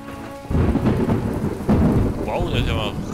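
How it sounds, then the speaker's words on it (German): Thunderstorm in the farming game My Time At Portia: a deep thunder rumble rolls in over steady heavy rain pattering on surfaces, loud and close, with no voices. "Das ist ja mal richtiges Gewitter hier."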